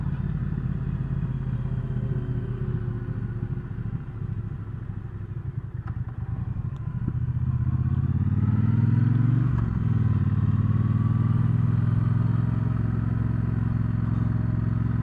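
A 2019 Triumph Speedmaster motorcycle on a test ride gives a low, steady engine rumble that deepens and grows louder partway through as it accelerates, with a faint whooshing background and no speech.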